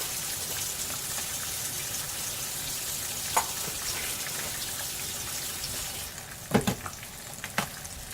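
Corn sizzles steadily in a pot on a stovetop after sugar goes in, a constant bubbling hiss with a few sharper clinks of a spoon or pot near the end.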